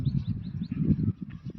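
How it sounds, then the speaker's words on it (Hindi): Small birds chirp in quick, faint tweets over a low rumbling background for a couple of seconds. "शायद आप वीडियो में सुन रहे होंगे चिड़ियों की चहचहाट"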